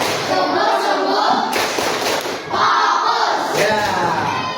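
Rhythmic group clapping in an elementary school classroom, a teacher-led "tepuk fokus" clap chant, with repeated bursts of hand claps in a steady pattern, close and loud, mixed with children's voices.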